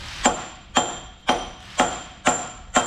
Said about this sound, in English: Back to the small sledge.